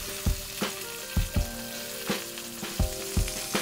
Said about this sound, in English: we're gonna let that sear for 1 to 2 minutes